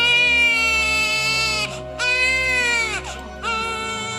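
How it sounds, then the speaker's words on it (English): An infant cries loudly and close in a high, wailing voice, in three long sustained bursts separated by brief gasping pauses, set in a frightening scene at a neighboring house at night. "I heard a child crying from the house next door."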